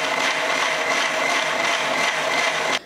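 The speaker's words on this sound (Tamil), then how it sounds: "இப்போ அரைச்சிட்டு வந்துடுறேன்," An electric mixer grinder runs steadily at high speed, blending a juice, with a loud continuous whirring that cuts off abruptly at the end; no one talks.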